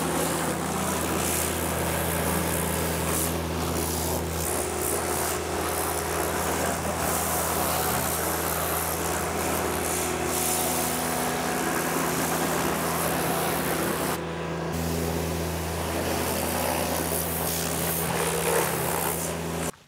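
A tractor PTO-driven power washer runs continuously, a steady loud droning engine hum with a constant low tone and hissing spray, unbroken apart from a brief dip near the end.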